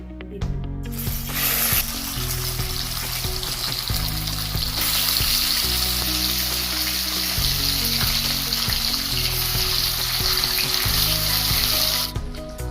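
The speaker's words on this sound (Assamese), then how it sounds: "এয়া তেলখিনি গৰম হ'ল এতিয়া মই মাছখিনি ইয়াত ভাজিবলৈ দিম।" Fish frying in hot mustard oil in a pan, giving a steady, loud, close sizzle that runs almost unbroken. Low background music plays underneath, and nobody speaks.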